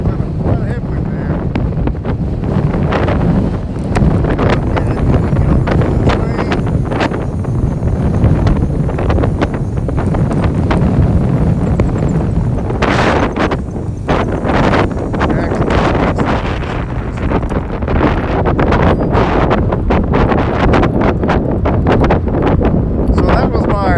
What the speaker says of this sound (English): it's quite a headwind there